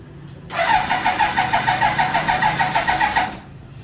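A Kawasaki Ninja ZX-9R with a low battery being cranked, the starter whirring in a steady rapid rhythm for about three seconds without the engine catching, close and loud.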